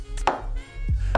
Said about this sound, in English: All right, so we're gonna chop some onions.